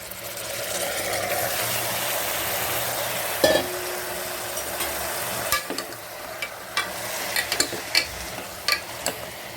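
Mutton cooks in a pan for a curry with a steady sizzle that fades as a spoon scrapes and clacks against the pan in scattered sharp knocks, no talking.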